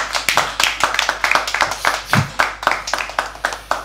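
An audience at a poetry open mic claps in a brisk, fairly sparse run of hand claps, close and steady for a few seconds with no voices over it.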